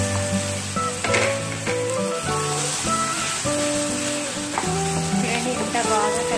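Apples stirred into melted sugar in a hot pan give off a steady, close sizzle with faint stirring scrapes, running under soft background music.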